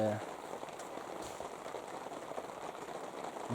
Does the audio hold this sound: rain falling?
yes